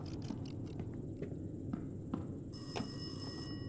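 A telephone rings in the horror game Rise of Insanity, its bell tone arriving partway through over a low ambient hum and soft scattered clicks.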